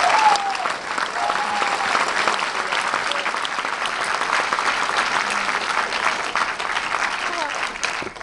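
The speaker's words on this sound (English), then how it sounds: "So round of applause for them." Audience applause for a film's producers, director and lead actor at a live Q&A, a loud dense burst of clapping that stays full and even for about eight seconds before tailing slightly at the end.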